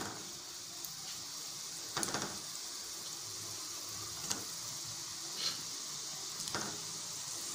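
Gulab jamun dough balls dropped into hot oil, a steady soft sizzle with a few sharp clicks and spatters over a constant frying hiss.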